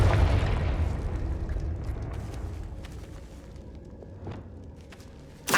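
In Hogwarts Legacy, a Confringo spell bursts with a heavy, close boom that rumbles and slowly fades, followed by scattered crackles and light thuds and a sharp pop at the very end.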